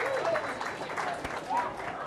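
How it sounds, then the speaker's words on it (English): An audience claps for a special guest at a raffle event, a moderate patter of applause with voices and a few whoops mixed in. "So give Jeff a round of applause"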